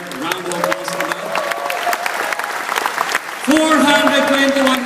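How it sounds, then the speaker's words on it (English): Crowd applauding at a sales rally in a large mall venue, a broad wash of clapping under amplified music and voices, with a louder musical swell near the end. "Do we not deserve a round of applause for that?"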